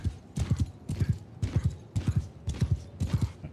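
Horse hooves clip-clopping in a video game: steady, rhythmic clusters of hoofbeats repeating about every half second, moderately faint, with no talking.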